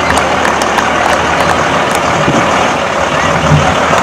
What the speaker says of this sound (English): This is the second due engine for calls with the Champlain Fire District.